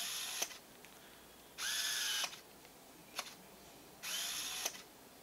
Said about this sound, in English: so you can hear the autofocus